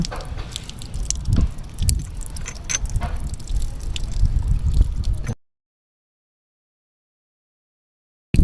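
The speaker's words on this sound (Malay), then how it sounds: "Air dah keluar ni." Water gushes and gurgles from a freshly opened household pipe during a DIY plumbing repair, a steady splashing, dripping flow heard up close for about five seconds before cutting to silence.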